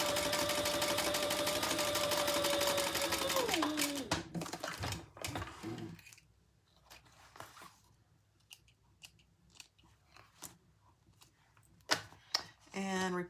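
A sewing machine runs steadily for about four seconds while sewing a crossbody bag, then stops, followed by scattered handling clicks and rustles.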